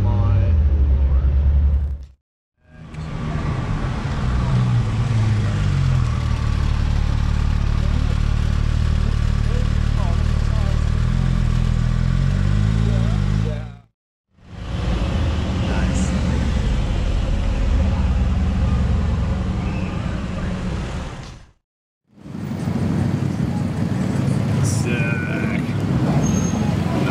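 Ferrari 812 Superfast engine roaring in long, loud, full-bodied bursts with rising and falling revs, broken by brief silent gaps, close by amid street traffic.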